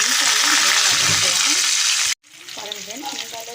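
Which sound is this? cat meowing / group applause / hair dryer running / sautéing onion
sautéing onion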